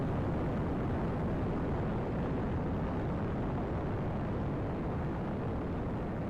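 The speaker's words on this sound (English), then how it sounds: "Hopefully I didn't do any damage to the base by launching this rocket" A rocket lifts off in the ATM Gravitas Minecraft modpack, a continuous loud, broad roaring rumble that holds steady and unbroken throughout.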